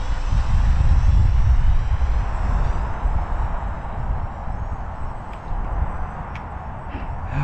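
A Holy Stone 720R camera drone with a 3-axis gimbal flies forward, its propellers giving a steady, fairly loud buzzing whir that holds throughout with no talking.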